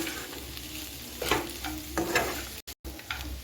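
Sabudana khichuri with lemon juice sizzles in a pan while a spoon stirs and scrapes it in uneven strokes, with a couple of brief dropouts near the end.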